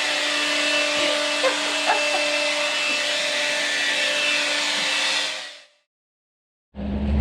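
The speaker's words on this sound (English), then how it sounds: "she sucks them up in the vacuum" A vacuum cleaner runs steadily inside a camper trailer, sucking up small gnats, with a loud continuous whine and drone that cuts off abruptly, followed after a brief silence by a short burst of lower rumble.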